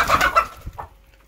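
A hen gives a couple of short, close clucks, then falls quiet.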